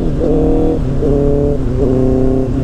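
A Honda CBR 650R motorcycle engine blips and cuts during clutchless gear shifts, its revs rising and dropping in quick steps with a loud, close, steady exhaust drone underneath throughout.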